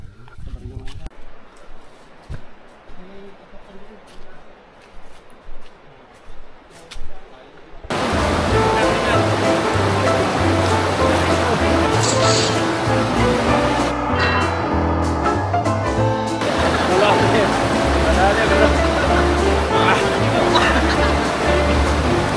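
Gabaldon Falls in the wild Gabaldon mountains pours in a loud, steady broadband roar after about eight seconds of quieter outdoor sound with footsteps and shuffling near the trail.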